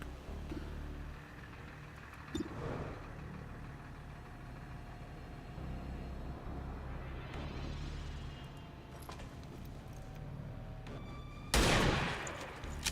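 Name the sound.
gunfire from the video game XCOM 2 Long War of the Chosen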